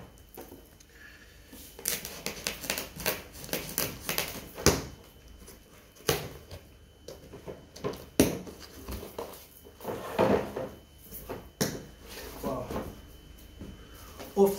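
A film box for a leather jacket is handled and opened up close, giving scattered soft knocks, taps and rustles in an irregular rhythm under occasional speech.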